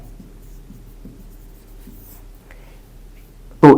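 Pen scratching steadily on paper while a math problem is written out, faint and close with soft repeated strokes, ending in a sudden louder knock or tap.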